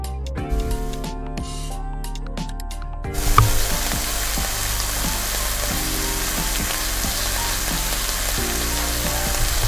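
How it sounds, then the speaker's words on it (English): Food sizzles steadily in a pan, a bright continuous crackle that swells after a few seconds, with faint tonal background sounds underneath. "So in order to hear that sizzle"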